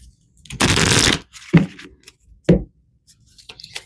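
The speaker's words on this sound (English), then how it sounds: "Let's pull some more cards here." Tarot cards being shuffled in a long riffling burst, followed by two sharp, close snaps as cards are pulled and laid down, with quiet handling in between.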